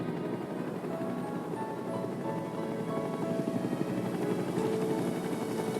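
Shinra aircraft hover over a city in Final Fantasy VII Rebirth, giving a continuous dense rotor-like drone with a rain-like wash, steady and fairly loud throughout with no talking.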